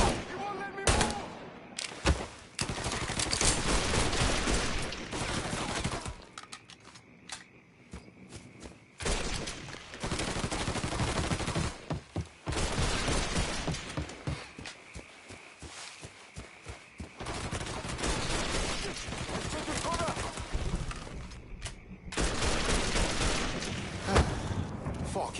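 Gunfire in the video game Mafia III, repeated bursts of rapid automatic shots and loud single cracks with brief pauses between volleys, alongside shouted voices.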